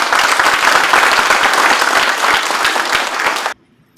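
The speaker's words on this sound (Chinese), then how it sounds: "我们给袁秘书掌声一下好不好？" Loud, dense applause from an audience at a monthly flag-raising ceremony honoring Secretary Yuan, sustained for about three and a half seconds before cutting off abruptly into silence.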